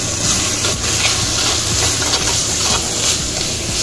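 Pepper mutton curry stirred in a pan, a steady sizzling hiss with soft scraping and bubbling that holds at an even, close level throughout, with no voices.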